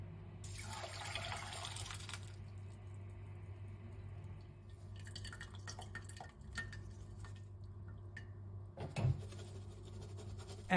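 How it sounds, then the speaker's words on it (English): Coffee mixture splashes and trickles steadily through a sieve into a salad bowl, a continuous watery pour with a few drips, moderately close. "then I pour my mixture onto the sieve."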